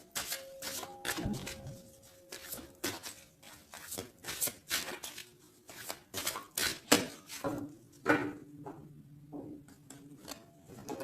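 A tarot card deck being shuffled and cut by hand, with close, crisp riffling and rapid card flicks in repeated bursts and brief pauses, plus a faint background tone.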